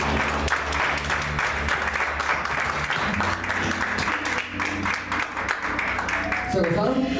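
A church congregation claps loudly and steadily during a fellowship service, a dense sustained round of applause with a voice speaking over it near the end.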